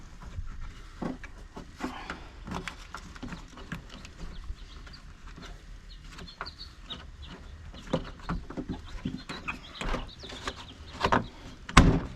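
A door being closed and secured, heard as a scattered series of knocks, clunks and rattles that grows louder and busier toward the end, with no talking.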